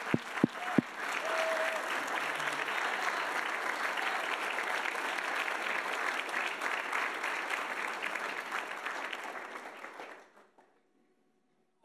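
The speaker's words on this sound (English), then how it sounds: "Let's give them a round of applause." Audience applause for assistant coaches at a college athlete awards ceremony, a few sharp claps building into sustained steady clapping from a large crowd that fades out and ends in silence.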